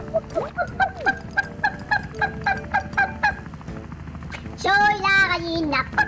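Cartoonish hen in the game Wobbly Life gives a rapid series of short, rhythmic clucks, followed by a louder squawking burst near the end.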